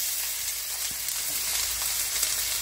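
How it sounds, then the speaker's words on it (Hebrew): Onion fries in hot olive oil in a sauté pot, a steady, dense sizzle that holds at an even level throughout, close by and with no talk. "לסיר סוטאז' עם שמן זית רותח, אני מתחיל להכניס את הבצל"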